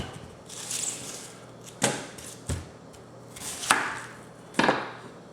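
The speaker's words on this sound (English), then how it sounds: "Okay, so we've got our 4 yellow onions. Get these all diced up." Knife dicing four yellow onions on a cutting board, a few sharp separate chops spaced about a second apart over steady background noise.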